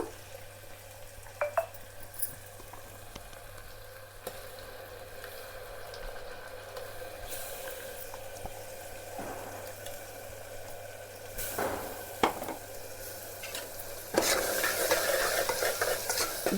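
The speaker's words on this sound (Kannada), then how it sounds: "ಸ್ವಲ್ಪ ಹಸಿ ವಾಸನೆ ಹೋಗ್ಬಿಟ್ಟು ಚೆನ್ನಾಗಿ ಕರ್ಕೋಬೇಕ್ರಿ" Spinach and tomato paste frying in a pan for palak pulao, a soft steady sizzle with repeated close scraping and stirring strokes and occasional louder scrapes toward the end.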